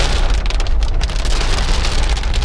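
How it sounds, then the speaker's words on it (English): Heavy Florida rain drums hard and constantly on a moving car, a dense close roar of drops against the body and glass with no voices. "in Florida, you can drive in and out of the rain"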